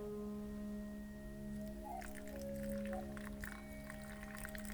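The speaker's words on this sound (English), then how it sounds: "Then I add 75 grams of filtered water." Filtered water pours in a thin stream into a bowl of whole wheat flour for a few seconds, a soft splashing trickle over a steady low hum, quiet and close.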